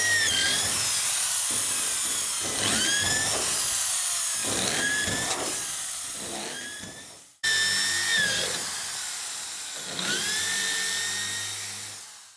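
A power drill whines in repeated bursts, revving up and biting through metal cap rivets on vintage caravan cladding, with brief pauses between runs.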